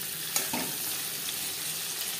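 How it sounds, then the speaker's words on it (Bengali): Paneer with salt and turmeric fries in a pan as it is turned, a steady sizzle broken by a couple of sharp scraping knocks early on, then settling into even crackle. "উল্টে পাল্টে পনির হালকা করে ভেজে নিয়েছি।"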